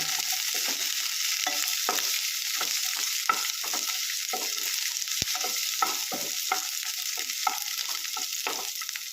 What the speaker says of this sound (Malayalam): ചെറിയൊരു കഷ്ണം ഇഞ്ചി ഒരു പതിനഞ്ച് ചെറിയ ഉള്ളിയും കൂടി ഇട്ട് നല്ലപോലെ ഇതൊന്ന് വഴറ്റിയെടുക്കാം